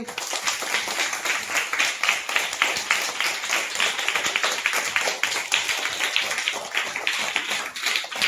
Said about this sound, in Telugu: పిల్లలు మన వెంకటరమణకు ఒకసారికి క్లాప్స్ కొట్టండి